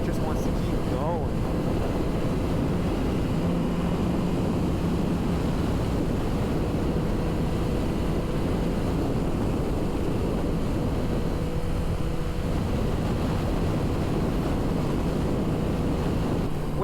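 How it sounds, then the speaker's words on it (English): Heavy wind roars steadily past the microphone while riding a 2003 Hayabusa motorcycle at highway speed, a loud, continuous buffeting rush with no break. "there's quite a bit of wind going highway speeds"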